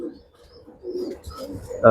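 A male white racer pigeon's soft, low cooing close by, rising and falling over a couple of seconds, ending in a louder burst.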